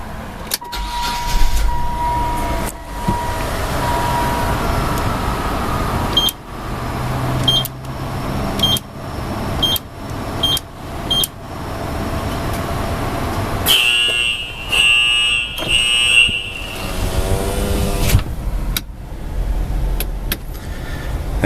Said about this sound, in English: The conveyor will pull you through.